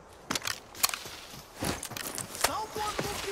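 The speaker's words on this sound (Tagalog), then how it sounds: "Meron akong footstep na rin." Footsteps in the video game Arena Breakout, a few sharp, scattered steps over a noisy game background, with no speech.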